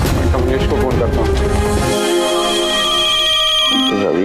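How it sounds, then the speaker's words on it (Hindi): A mobile phone ringtone plays loudly in an indoor drama scene, a bright repeating melodic tone that rings steadily from start to end with no talk over it. "रवि का फोन आ रही है यार"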